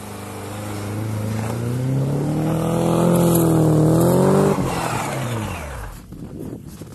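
An off-road car climbs a hill under hard acceleration, engine note rising steadily in pitch and loudness over several seconds before cutting off sharply, followed by brief rough noise as it stops.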